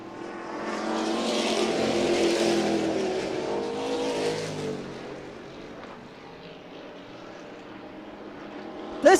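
Race cars at Ohio's Wheelman circuit during a Crown Vics or Midwest Compacts event, a pack roaring past nearby then fading into the distance, with a brief sharp bump at the end.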